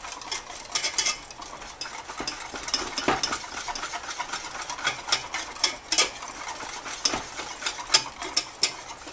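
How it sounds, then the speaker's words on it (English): Cheese sauce being whisked in a pot for steamed broccoli, a steady run of quick metallic scraping and clinking strokes, close and fairly busy, with no talking. "Gotta start back whisking."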